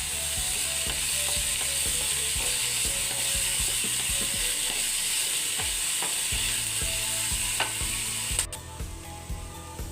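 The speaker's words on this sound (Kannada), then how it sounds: "ಈರುಳ್ಳಿ ಸ್ವಲ್ಪ ಬೇಗನೆ ಫ್ರೈ ಆಗಲು ಸ್ವಲ್ಪ ಉಪ್ಪನ್ನು ಸೇರಿಸ್ಕೊಳ್ಬೇಕು." Onions fry with a pinch of salt in a pan, giving a loud, continuous sizzle with repeated rhythmic scraping and clattering from stirring, which eases near the end.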